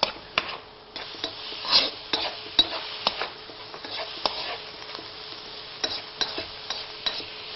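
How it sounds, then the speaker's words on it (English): Food stir-fried in a wok with soy sauce, giving a steady close sizzle broken by repeated scraping and clanking strokes of a utensil against the pan at an uneven rhythm. "不停地翻炒"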